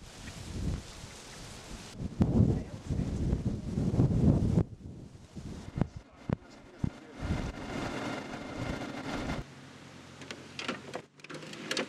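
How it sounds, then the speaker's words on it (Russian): Strong wind buffets the microphone at a field observation post during combat operations, loud gusty rumbles coming in bursts with rustling and scattered knocks, easing to a steadier low roar toward the end. "Ветер сильный, но ничего страшного."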